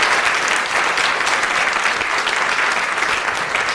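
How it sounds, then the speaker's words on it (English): Dense, sustained applause from an audience at a talk on menopause, loud and even throughout with no voices over it. "So another round of applause, please."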